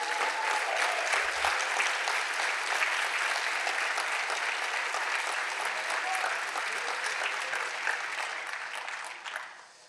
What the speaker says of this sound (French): Donc vous pouvez les applaudir et les encourager.